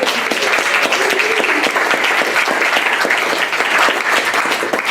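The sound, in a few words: audience applause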